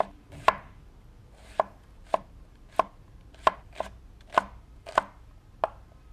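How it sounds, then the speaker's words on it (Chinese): A knife chops an onion into small pieces, sharp distinct knocks on a cutting board at an irregular steady pace, close and clear against a quiet room with no speech. "再准备一个洋葱，也切成小块"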